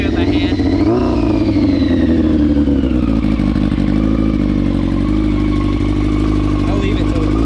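A motorcycle engine runs on choke just after starting, a loud, close, steady idle with a clattering low rumble and a brief blip in revs near the start; a voice talks over it.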